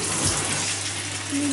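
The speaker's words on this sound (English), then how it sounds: "Georgia, I think we should start by cleaning the tiles with the shower." Water from a shower sprays onto bathroom tiles in a loud, continuous hiss close by, steady throughout with a slight gushing swell.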